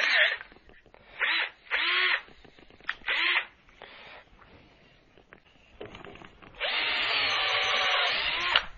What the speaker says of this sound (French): je vais percer la pièce de bois de 20 cm avec une mèche de 5